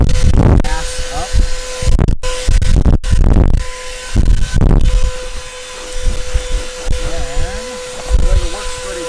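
A ThisWorx 12V handheld portable car vacuum cleaner whirs in short bursts, picking up grass. A steady motor tone runs underneath, and a person talks nearby throughout.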